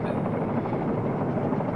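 Aircraft droning in the naval combat game Modern Warships: a steady, loud, rotor-like buzzing engine hum fills the whole moment without letting up, with no distinct speech over it.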